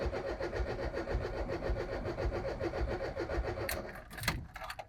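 A VW T25 camper engine cranks steadily with a rapid, even rhythm, trying but failing to start; the cranking stops near the end, leaving a few brief clanks and rattles.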